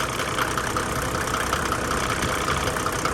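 A Mercedes E300 engine idles steadily at close range, a constant mechanical hum with a faint rattle and no other sounds.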